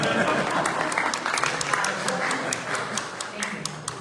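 Audience applause at a neighborhood association commissioners forum, a steady crowd clapping throughout with sharp individual claps standing out near the front, moderately loud.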